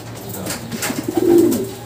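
Racing pigeons at a loft coo in soft, low repeated phrases, swelling toward the end, with faint background noise and no voices.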